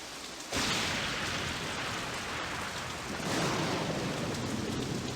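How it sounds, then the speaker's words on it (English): Heavy rain and a thunderstorm in the Nancy Drew game Message in a Haunted Mansion, a dense steady downpour that swells abruptly after a brief quiet start and carries a low rolling rumble throughout. "Dear Bess, hello from stormy San Francisco."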